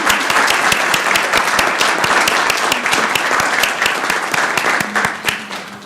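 A loud, sustained round of applause from people at a Columbus, Georgia city council meeting, many hands clapping together and tapering off slightly at the close.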